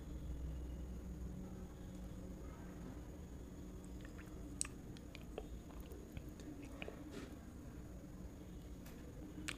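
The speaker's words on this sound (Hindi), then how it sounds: "फर्स्ट बाइट खाते हैं।" Someone chews a bite of pork belly curry with basmati rice, extra pork gravy and green chili, slow soft mastication close to the mic over a steady low background hum, with a few faint wet clicks.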